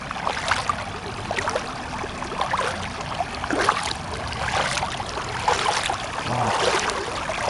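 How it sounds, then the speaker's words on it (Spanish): A river with a strong current rushes steadily, a broad, continuous wash of flowing water heard close by on a hot day, with no voices. "No me acerco ahí porque hay mucha corriente, si no se me lleva al río."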